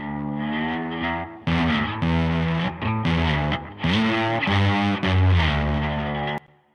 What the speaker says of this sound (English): I was experimenting in here with my baritone guitar and decided to try out a bit of a slide part.